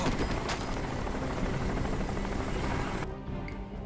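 Helicopter from the video game Crysis, a steady, loud rotor and engine drone that fills the scene and then drops away abruptly near the end.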